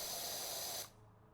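A pressure washer in the PowerWash Simulator 2 video game sprays in a loud, steady hiss for under a second, then cuts off abruptly into a faint room tone.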